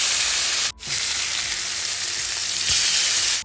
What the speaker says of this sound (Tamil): மிதமான சூட்டில் நம்ம வறுக்கலாம்